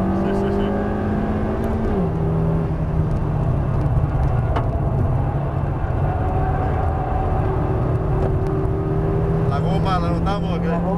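A new Honda Civic Type R driven on a race track, its engine droning loudly from inside the cabin with a pitch shift as it changes gear, while people talk over it.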